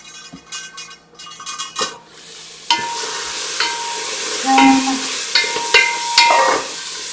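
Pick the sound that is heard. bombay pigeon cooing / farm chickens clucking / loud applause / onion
onion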